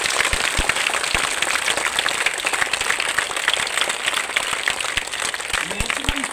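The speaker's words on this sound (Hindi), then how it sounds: "एक ताली की गड़गड़ाहट मेरे कानों तक गूंजनी चाहिए" Students and teachers clap together at a Raksha Bandhan school assembly at Saraswati Public School in Meerut, a dense, steady applause that holds throughout at even loudness.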